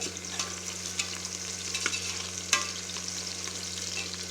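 Onions frying in a pan for Tamil-style tomato rice, a steady soft sizzle with occasional scraping stirs and one sharper clack, close but fairly quiet over a low background hum.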